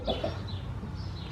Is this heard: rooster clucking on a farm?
yes